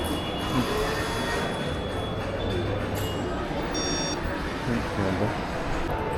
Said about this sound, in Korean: 언덕길을 갔다가 오르는 뭐 케이블카? 어, 언덕 전철 같은 느낌인데